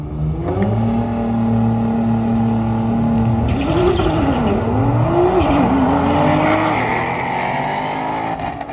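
A 750 wheel horsepower Nissan GTR drag racing against a supercharged Roush 5.0, its engine revving loud and close through a long pull, pitch climbing, dipping at shifts and climbing again.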